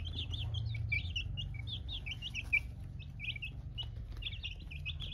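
A brood of young chicks raised as laying hens peeps in quick, high, scattered bursts over a low steady hum, with many birds calling at once at a moderate distance.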